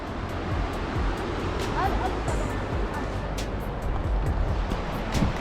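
Waves breaking on an icy, partly snowy shore of Lake Ontario, a steady broad wash of surf mixed with wind rumble on the microphone, continuous and fairly close throughout.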